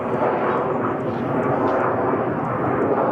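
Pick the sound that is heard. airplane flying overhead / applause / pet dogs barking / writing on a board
airplane flying overhead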